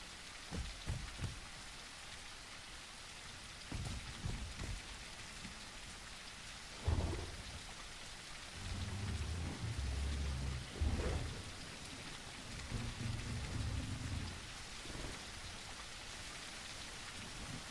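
Steady rain and rumbling thunder in a video game, with hissing rainfall throughout and several deep thunder rolls, no voices.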